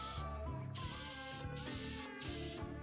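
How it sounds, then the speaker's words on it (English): A spray gun lays down camouflage paint in a wide fan pattern, hissing in three close, fairly loud bursts over a steady mechanical hum. "give yourself a nice wide fan spray and start in the center of your pattern"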